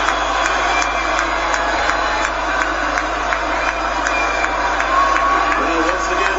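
Boxing arena crowd in Belfast's Odyssey Arena roaring steadily, a dense continuous wash of cheering and shouting at constant loudness with scattered claps and whistles.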